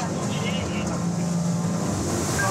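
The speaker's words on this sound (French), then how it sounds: "Le pilote pousse les gaz jusqu'à 60 km/h pour rattraper l'embarcation." A gendarmerie patrol boat engine runs at full throttle at about 60 km/h, a loud continuous roar with rushing water and wind, while a voice speaks over it.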